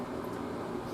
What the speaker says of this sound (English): all the noise you can hear is the extraction going off and stuff in here